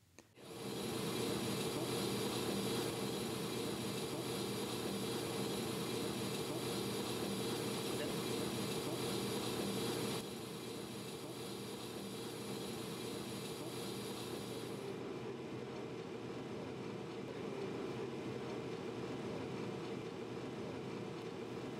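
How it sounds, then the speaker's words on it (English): AMMCO 4000E brake lathe machining a brake rotor, running as a loud, steady mechanical hum with a high whine that fades partway through, and the drone continuing evenly to the end. "When the lathe has finished machining the rotor, turn the lathe off and loosen the cutting engagements."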